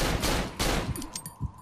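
SMG gunfire in the horror video game Cry of Fear: two loud bursts of rapid shots close together, followed by fainter clattering and a few small impacts.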